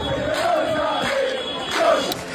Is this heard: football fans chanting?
yes